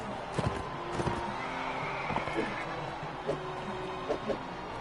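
Horses in the Mount and Blade Warband video game neigh and whinny in several short bursts over steady battle ambience, with faint hoof clip-clops underneath.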